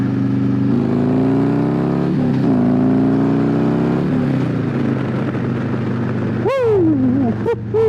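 A 2020 Harley-Davidson Road Glide Special Stage II with an S&S 475 cam pulls hard from second into third, its loud, close engine drone climbing in pitch, briefly dipping at the shift, then a rider whoops over the roar.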